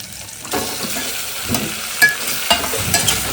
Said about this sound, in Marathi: ह्याच्यामध्ये जे हे मटन आहे आपण ह्याच्यात ते मिक्स करतोय